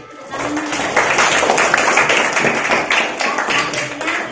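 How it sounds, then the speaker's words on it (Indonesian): Classroom students clap their hands in a burst of many quick, overlapping claps that runs continuously at a fairly loud, close level, with a few faint voices mixed in. "Tepuk tangan buat yang ibu suruh tadi."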